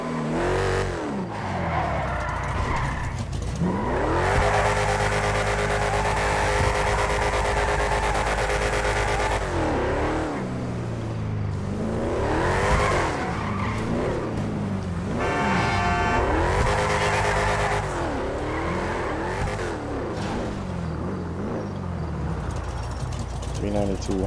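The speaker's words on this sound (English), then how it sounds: "this engine pushing" A car engine in GTA 5 revs hard and tires skid and squeal in long sustained passes, loud and close, with someone talking over it.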